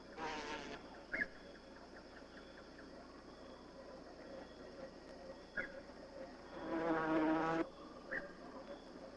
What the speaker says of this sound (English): The potter wasp spreads mud with its jaws, assisted by a buzzing vibration of the whole body.